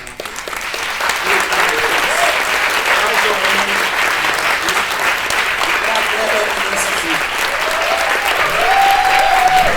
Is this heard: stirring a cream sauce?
no